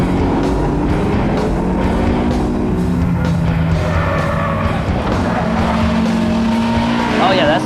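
A Honda S2000 race car driving on track, engine droning through shifting pitches with brief tire squeal near the end, loud and close throughout.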